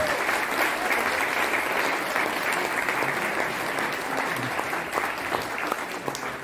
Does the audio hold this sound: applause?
yes